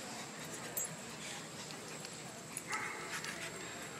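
A Shiba Inu and other dogs at a busy dog park, with faint whimpers and yips scattered over a steady outdoor hiss, plus a few brief distant sounds.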